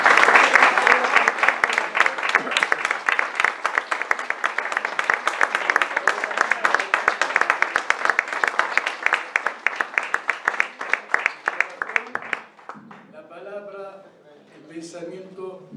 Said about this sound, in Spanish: Un fuerte aplauso para Mahmoud Sof.